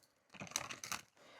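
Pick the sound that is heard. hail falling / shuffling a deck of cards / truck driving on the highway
shuffling a deck of cards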